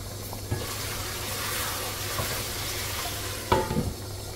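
Butter chicken cooking in a pan over an open flame gives off a steady, close sizzle with soft stirring scrapes and a sharper utensil knock near the end, with no voices.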